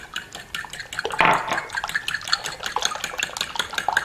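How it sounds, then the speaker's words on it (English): Three eggs and a third cup of milk are beaten in a bowl, a quick run of light clinking taps and sloshing strokes, close and fairly quiet, with one louder splash early on. "To the 3 eggs, I'm going to add 1/3 cup of milk and then just beat them up."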